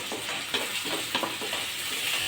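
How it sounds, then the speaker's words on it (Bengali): A bowl of onions fries in cooking oil in a pan for beef haleem, producing a continuous soft sizzle with light rhythmic stirring scrapes. "পেঁয়াজটাকে আমি ব্রাউন কালার করে একটু ভেজে নিব।"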